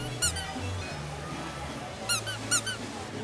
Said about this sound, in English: Have you seen the squeaky tree?